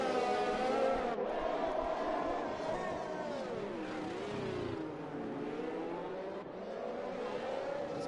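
Racing video game engine from a McLaren race car at Monaco, a steady, loud revving drone with rising and falling pitch that runs continuously and close, with commentary voices talking over it.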